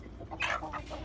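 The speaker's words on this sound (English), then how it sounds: "Some of these are roosters. Starting to get loud." Chickens including roosters in a backyard flock give a short burst of clucking and a brief crow-like call, close and moderately loud.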